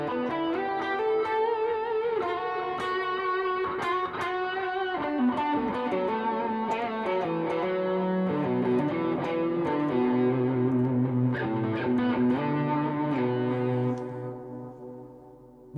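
Distorted electric guitar with high gain and long sustain plays a loud lead line of sustained notes, with overtones fading in and out before the final note rings down alone.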